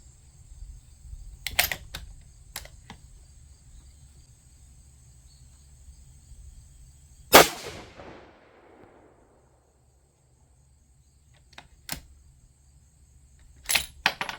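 A Savage 110 Tactical rifle in 6.5 caliber firing a 140-grain round outdoors, one sharp loud gunshot with a rolling echo that fades away, set against a steady chirping of crickets.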